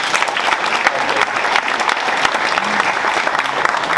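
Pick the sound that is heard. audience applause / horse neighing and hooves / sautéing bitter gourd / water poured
audience applause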